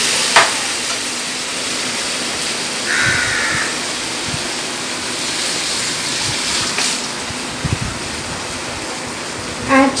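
Sweet corn stirs in a frying pan over a medium flame, a loud steady hiss of sizzling with occasional light scrapes and taps of a spoon, close by and with no talk.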